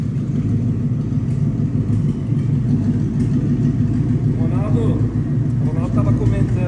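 A Ford Maverick V8 undergoing final restoration runs steadily with a deep, continuous engine rumble throughout, while people talk over it nearby.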